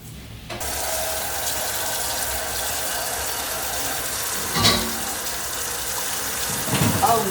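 Tap water runs steadily into a sink as soaked asparagus is washed beneath it, a continuous hiss with a couple of brief clunks and splashes near the end, no voices.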